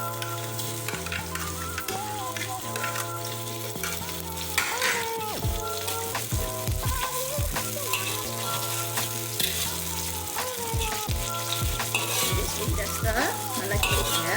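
Tomatoes and onions fry in a pan for a prawn sambal, a continuous close sizzle broken by repeated scraping strokes of a spoon stirring, over background music.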